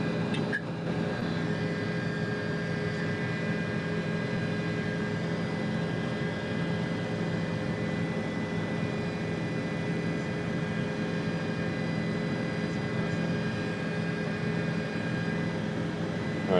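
Steady, close drone of a helicopter flying over the Baja 1000 off-road race, a continuous engine and rotor hum with tonal whine, unbroken and loud with no talk throughout.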